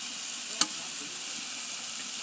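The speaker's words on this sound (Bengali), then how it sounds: "এখন আমি আরেকটু নেড়ে উঠিয়ে নেব।" Cauliflower with green chilies sizzles steadily in a pan while being stirred, a soft continuous frying hiss with one brief scrape or clink.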